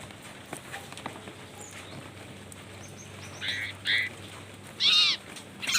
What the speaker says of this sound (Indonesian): Burung sirtu.